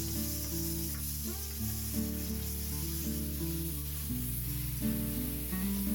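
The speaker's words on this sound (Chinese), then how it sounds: "锅中重新加油，倒入西红柿，大火翻炒" Tomatoes stir-fried in oil in a wok over high heat give a loud, steady sizzle with bursts of scraping as they are tossed. Background music plays underneath throughout.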